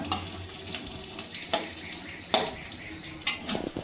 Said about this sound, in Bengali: চিংড়ি মাছ ভাজার তেলেই আমি ফোড়ন দিয়ে দেবো। ফোড়নটা ভালো করে ভেজে নেব।